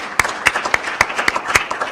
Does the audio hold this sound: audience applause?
yes